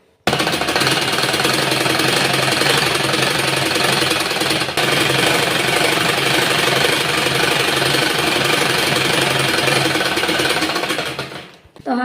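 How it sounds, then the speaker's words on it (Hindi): A sewing machine runs without pause, stitching a folded shirt sleeve; its dense, steady mechanical chatter fills the whole passage at close range, with only a brief hitch midway before it slows and stops at the end. "आस्तीन को इस तरह से फोल्ड करते हुए हमें यहाँ से सिलाई लगा लेनी है"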